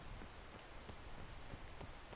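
Steady rain falls in the video game PEAK, a dense, even hiss of drops spattering on surfaces with scattered sharper splashes, continuous and fairly loud throughout, with no voices.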